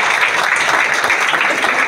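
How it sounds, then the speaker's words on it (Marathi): A large audience at a youth classical music festival in Solapur applauds loudly, a dense, sustained roar of many hands clapping at once with no pauses. "जोरात टाळ्या वाजवा."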